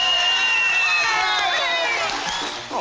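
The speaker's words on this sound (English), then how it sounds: "Can't you hear that applause?" Cartoon crowd applause and cheering from an old animated Dudley Do-Right segment: a dense, steady wash of clapping and excited voices that runs loud throughout, then eases slightly near the end.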